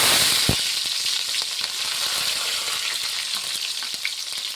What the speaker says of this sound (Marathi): झालं तेल गरम, आता टाकलं आपण तिथे जिरा आणि राई, त्याला हलवून घ्यायचे आणि हिरव्या मिरच्या